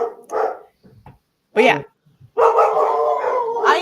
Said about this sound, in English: I don't know if you can hear my dogs.